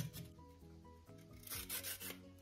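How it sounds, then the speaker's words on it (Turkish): A vegetable peeler scrapes a carrot in a kitchen, shaving off thin curly strips of skin in repeated rasping strokes, close and fairly quiet, with steady background hum. "Normal şöyle e, soyma aletiyle sıyırıyorum."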